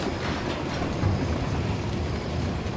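A moving train in Uncharted: The Lost Legacy rumbles steadily, loud and close, a continuous broadband roar with faint rhythmic rail clatter and no voices.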